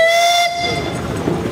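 An 1889 10 horsepower Advance steam engine at a Pioneer Engineers Club parade gives a short, loud whistle blast. The blast cuts off after about half a second, leaving rumbling engine and crowd noise underneath.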